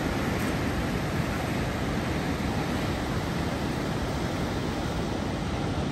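High ocean waves at a beach in Casablanca produce a steady, dense roar of surf, loud and unbroken throughout, with no distinct individual breakers standing out.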